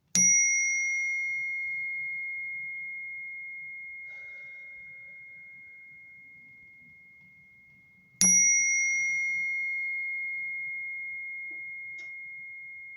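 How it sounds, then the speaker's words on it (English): A meditation bell is struck twice about eight seconds apart, each strike a bright, clear ding that rings on in a long, slowly fading tone in an otherwise quiet room. "I will ring the bell 3 times"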